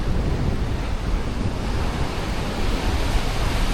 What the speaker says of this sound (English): Hopefully the wind is tolerable.